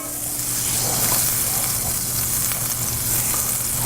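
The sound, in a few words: butter and olive oil sizzling in a hot pan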